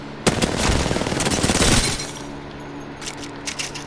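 Rapid automatic gunfire from a submachine gun in the video game Apex Legends rattles out in a loud, dense burst lasting under two seconds, followed by quieter game ambience and a few faint clicks.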